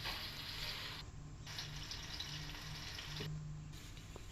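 Chopped onion frying in half a cup of hot oil, a steady close hiss of sizzling that stays even and continuous, with a faint occasional stir or tap.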